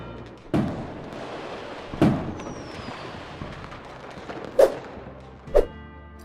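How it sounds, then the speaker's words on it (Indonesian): New Year fireworks burst over Copacabana Beach in Rio, with four or five loud booming explosions spaced a second or two apart over a steady crowd and ambient rumble. "Sekitar 15 menit lamanya, kembang api terus memukau masyarakat Brazil di sana."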